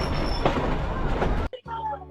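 Nilgiri toy train running between stations near Ooty, a loud rumbling, rattling roar for about a second and a half that cuts off abruptly into a much quieter, calmer stretch.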